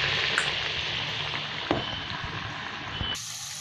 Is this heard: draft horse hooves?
no